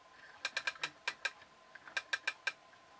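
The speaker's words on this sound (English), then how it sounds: "we've got a ratchet effect on the wheels so they can turn one way" A ratchet on the wheels of a toy inchworm crawler robot built from an old DVD player gives about a dozen sharp, close mechanical clicks, in two quick bursts with a short pause between them.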